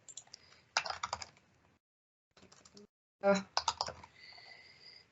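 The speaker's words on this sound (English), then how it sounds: "We'll then have to type in his answers. So let's type in details here." Bursts of computer keyboard typing come in quick clicking runs, separated by short pauses and near silence, close and fairly quiet, with a faint tone near the end.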